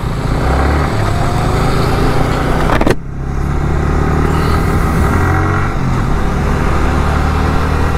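A motorcycle engine roars loud and close as the throttle opens on a monsoon group ride near Pune, a sustained drone with a sharp shift break partway, then continuing under rushing wind.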